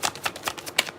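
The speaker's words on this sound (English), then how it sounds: "I'm still pulling cards." Tarot cards slide and snap as they are pulled one after another from a split deck, a soft papery rhythm of about five quick flicks, close up and fairly quiet with no voice.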